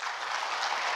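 An audience at a lecture on the economic potential and development of Kampot province breaks into dense, steady applause, many hands clapping together at even loudness, with no speech over it.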